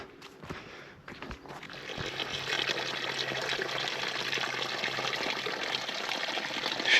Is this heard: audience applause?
no